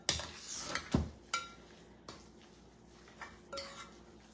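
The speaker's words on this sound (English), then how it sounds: "All right, so I'm going to mix this all up." Pasta with chicken meatballs, creamy tomato sauce and cheese is mixed in a pan, bringing a few scattered utensil clinks and scrapes against metal, quiet and close, with no talking.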